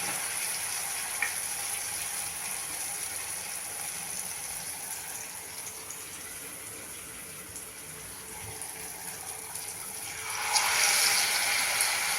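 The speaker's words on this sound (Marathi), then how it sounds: "स्लरीमध्ये बुडवायचं आहे आणि आपल्याला शॅलो फ्राय करायला तापलेल्या तेलामध्ये घालायचं" Potato tikki coated in slurry shallow-frying in hot oil, giving a steady, close hiss and sizzle throughout that grows louder and brighter toward the end.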